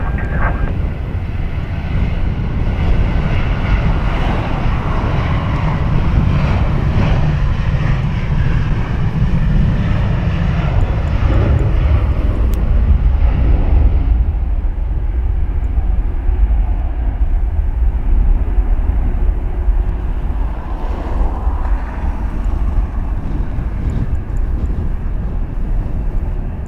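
A Shamrock airliner at Dublin Airport on runway 10 right, its engines roaring loud and close in a sustained, broad rumble that eases and shifts partway through.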